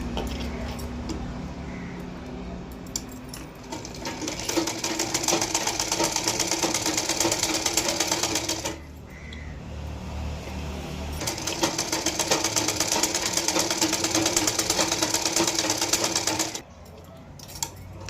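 A sewing machine stitches lace around the edges of a cross-cut blouse, its rapid motor whir running in two long bursts with a short pause between and a brief stop near the end, close and steady with no voices.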